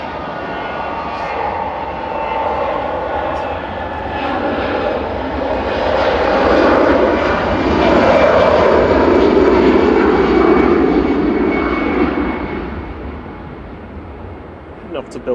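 EasyJet airliner departing Manchester Airport, a powerful roaring jet engine swell that builds, peaks midway and slowly fades, heard from a distance outdoors.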